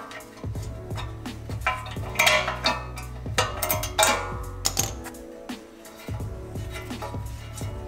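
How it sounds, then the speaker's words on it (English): Metallic clinks and ratcheting taps of a 10 millimeter wrench working a single bolt on a Toyota 4Runner, a close, irregular series of sharp ticks and scrapes with short pauses between. "you'll want to grab a 10 millimeter wrench and remove the single bolt"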